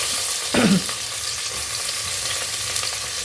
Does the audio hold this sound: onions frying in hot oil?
yes